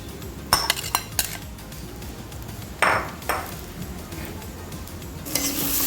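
Metal utensil scraping and clinking against a pan in a few sharp strokes as Gobindobhog rice is stirred with fried potatoes, with a soft sizzle of frying underneath.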